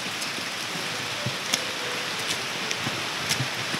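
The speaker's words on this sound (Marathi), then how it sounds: "तर खूप जोराचा पाऊस आहे." Heavy rain hisses down at Sarasgad Fort, dense and continuous, with occasional louder drops pattering on nearby surfaces.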